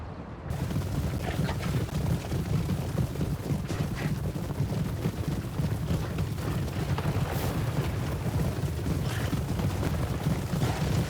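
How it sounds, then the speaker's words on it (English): Massed black powder musket volleys from Bretonnian infantry in Total War: Warhammer 3 turning back an Elven vanguard, a dense continuous roar of crackling fire and battle din, loud and sustained throughout with no pauses. "The Elven vanguard was quickly turned away under withering black powder fire."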